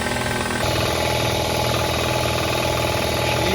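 A steadily running engine on an S10 work vehicle builds air pressure, giving a loud, close, continuous rumble with a regular pulsing beat and an airy hiss layered over it; no one talks.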